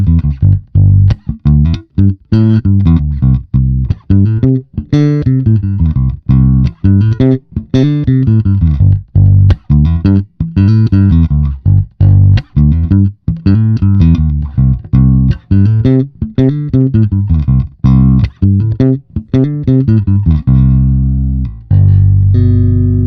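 A Fender Vintera 60s Jazz Bass with both pickups on full and tone fully open plays a steady walking line of plucked notes, round and punchy, loud and close with no other sounds.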